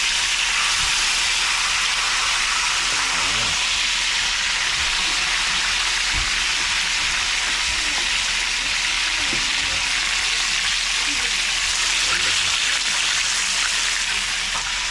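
Tilapia fish frying in hot oil at home, a loud, steady crackling sizzle that fills the whole stretch with no talking.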